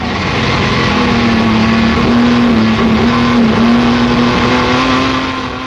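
A Jaguar D-type race car holds about 6,000 rpm in fourth gear, its engine a loud, steady, close droning roar with a strong sustained tone throughout, no talking over it.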